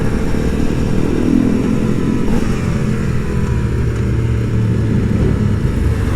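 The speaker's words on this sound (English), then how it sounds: "I can hear my bike just revving behind me." Aprilia SX-125 two-stroke supermoto engine revs loudly and steadily nearby, a continuous buzzing rumble with small swells in pitch and no talking over it.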